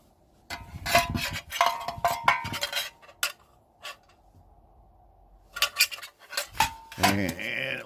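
Titanium camping stove gear being handled and screwed onto a fuel bottle: close, bright metallic clinks and rattles in short bursts, with quiet pauses between them.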